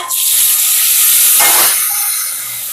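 Tomatoes hitting a hot pan of oil while a Srikakulam-style horse gram curry is cooked, giving a loud, steady broadband sizzle that swells for a moment and then gradually settles, with no voices.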